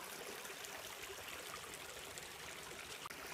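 Water running out beneath a small dam into a pond in a rebuilt creek bed, a steady, soft rushing trickle with no pauses.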